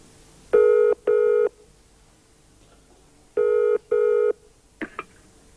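A telephone ringing out on a call, heard as two pairs of loud, clear double rings separated by a pause, followed by a couple of soft clicks on the line, with no voices.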